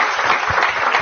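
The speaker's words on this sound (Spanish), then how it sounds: "Un aplauso a la doctora." Brief, loud burst of audience clapping after an online anesthesiology lecture, a dense, muffled patter lasting only about a second.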